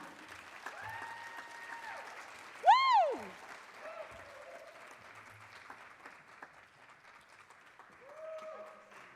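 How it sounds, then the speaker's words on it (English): Faint, distant applause from an awards show audience runs steadily under rising and falling whoops and whistled calls, with one louder cry near the middle. "Round of applause, everyone."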